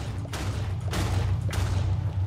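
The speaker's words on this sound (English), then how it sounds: "when I drop the Fire Nova, it's going to make a sound effect explosion" Fire Nova explosion in Minecraft Bedrock, heavy rumbling blasts with three sharp bursts breaking through a loud low roar, close and forceful.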